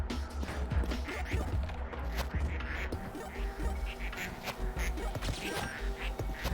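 Ducks quacking in a video game, a busy stream of quacks mixed with crashes and clatter, dense and continuous at moderate level with no talking.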